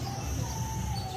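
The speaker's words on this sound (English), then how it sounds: "Weaver birds living in this tree." Weaver birds calling from the tree where they nest, a thin chorus of faint chirps and tweets over a steady low outdoor hum, continuous and distant rather than close.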